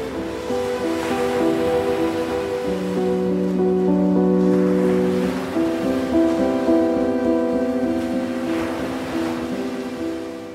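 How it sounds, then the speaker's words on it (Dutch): Ocean waves and surf rolling onto a beach on Portugal's Algarve coast, a steady, loud wash of breaking water with swelling surges, heard alone without speech. "Is dat de oceaan?"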